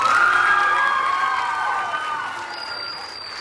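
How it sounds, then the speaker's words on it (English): A school summer concert audience cheers and applauds after a performer, with high whoops and shouts over a steady wash of clapping that gradually eases toward the end. "Let's give her another big round of applause"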